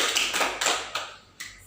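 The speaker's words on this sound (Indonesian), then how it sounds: "kita beri tepuk tangan kepada Ibu Gita." Group hand clapping in an Indonesian anger-management therapy session, a short burst of several quick claps that fades out after about a second, with one more clap near the end.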